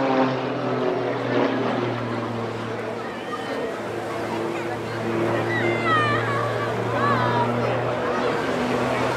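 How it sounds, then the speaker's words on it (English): Jet Pitts aerobatic biplane pulling up into a big loop at a seaside airshow, a continuous droning engine roar heard from a distance while a commentator talks over it. "Pulling up an enormous loop."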